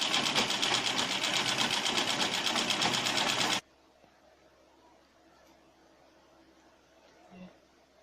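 A sewing machine runs fast and steady while stitching a fabric hem on a wrapper, a loud continuous whirring rattle for about three and a half seconds that then stops abruptly into near silence.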